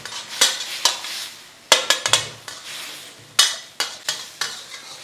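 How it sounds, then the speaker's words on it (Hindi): Vegetables stir-fried in a pan on high flame for Chinese-style Dragon Chicken: a soft sizzle underlies sharp, irregular clanks and scrapes of a spatula striking the pan, close and loud, with no talking. "3 से 4 मिनट सब्जियों को सोते करेंगे।"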